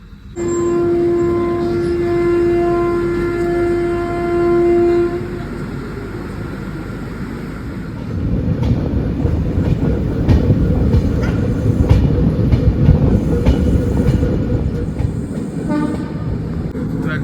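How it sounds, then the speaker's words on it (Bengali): The Kolkata–Agartala Garib Rath Express leaves Kolkata station with a long steady horn blast at the start, then the rumbling, rattling clatter of the cars grows louder as it picks up speed. "নির্দিষ্ট টাইমে আমাদের ট্রেন কলকাতা স্টেশন ছেড়ে দিল।"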